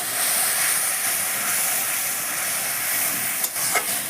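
Spice paste and ginger paste hit hot oil for a Bengali katla fish curry, producing a loud, close, continuous sizzle and hiss, with a couple of brief spatters and stirring clatters late on.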